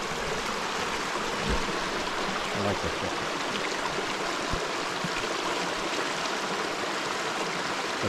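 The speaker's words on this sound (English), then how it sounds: "This is always a nice creek, eh?" A mountain creek rushes in a steady, close, broadband wash of flowing water throughout, with a brief spoken remark over it.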